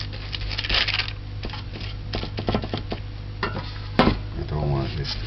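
A baking pan for spice bun being greased with butter, giving soft rubbing and scraping sounds, then a sharp metallic clink near the end, close by, under a low steady hum.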